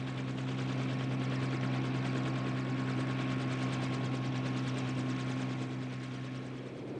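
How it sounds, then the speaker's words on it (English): Military helicopters fly overhead in wartime Vietnam, hauling heavy artillery to remote fire bases, with a loud, steady rotor drone and rapid blade chop that holds throughout and eases only slightly at the end. "The biggest helicopters carried 10-ton artillery pieces to remote encampments called fire"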